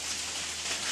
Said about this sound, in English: You can hear the rain coming now.